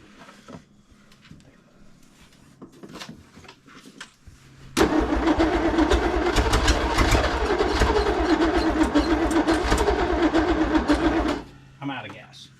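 Studebaker Wagonaire engine with a swapped carburetor cranking and firing up, then running at a loud rough idle for about seven seconds before cutting out, with people talking before and after.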